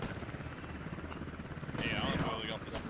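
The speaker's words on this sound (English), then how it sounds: "Where's the heli? Yeah, I'm coming. I hear it right above us." A helicopter in the military shooter game Squad thrums overhead as a steady low rotor pulse, swelling louder near the end, with players talking over it.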